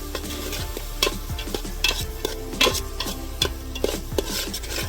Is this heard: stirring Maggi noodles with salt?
yes